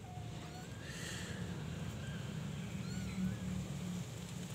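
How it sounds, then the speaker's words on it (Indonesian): A Persian cat gives a few faint, thin meows over a steady background of wind-like noise. "kucing versi ya teman-teman ya, Mauli itu ya binatang peliharaan saya."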